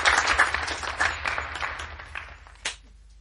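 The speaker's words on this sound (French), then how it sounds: "On l'applaudit." A crowd bursts into applause, dense clapping that gradually thins out and fades, ending with a couple of last claps before quiet.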